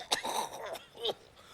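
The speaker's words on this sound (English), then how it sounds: "It's a bad cough" A single person gives a short, rough, throaty cough, fairly quiet and close, followed by a brief catch of the throat in a dramatic scene.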